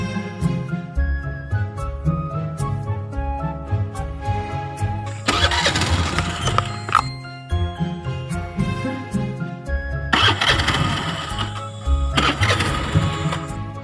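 A motorbike engine cranks and sputters as someone tries to start it, repeated bursts of churning engine noise under a loud music track.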